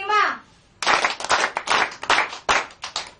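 Church congregation clapping on request in a bursty, uneven pattern of several sharp rounds of hand claps after a brief spoken word, fairly close and loud.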